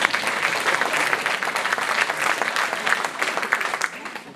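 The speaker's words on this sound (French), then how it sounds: "c'est pour ça qu'on vous applaudit encore une fois." An audience at a troupe's stage show claps steadily for several seconds, a dense, sustained round of applause from a sizeable crowd with no talk over it.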